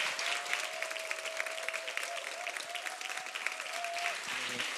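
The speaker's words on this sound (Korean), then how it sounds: "큰 박수로 목사님 모시겠습니다" A church congregation gives loud, continuous applause to welcome a pastor at a revival service, with a steady tone sounding through most of the clapping.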